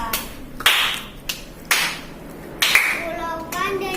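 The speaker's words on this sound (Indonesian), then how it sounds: "Tepuk tangan dulu untuk Alia." Schoolchildren in a classroom clap for a classmate in three short, sharp bursts of applause, with a voice speaking between them.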